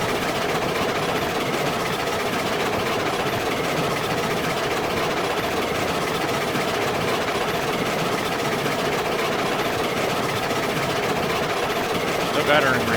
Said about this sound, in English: Now this engine pulling up rails, that's going to be a lot heavier.